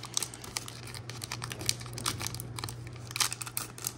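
A Pokemon card booster pack wrapper being worked open, with quiet rapid crinkles and small tearing crackles in irregular bursts, close and soft.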